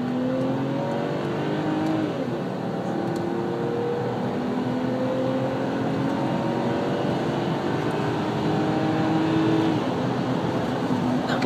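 A BMW X5 E70 3.0si accelerating, heard from inside as a steady engine drone that rises in pitch through successive gears, with brief shifts and constant road noise underneath.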